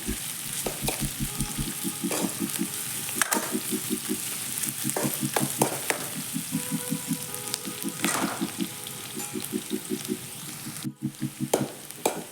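Natti-style chicken sambar masala fries on a high flame with a constant loud sizzle, broken by rhythmic bursts of a spoon scraping and stirring against the pan.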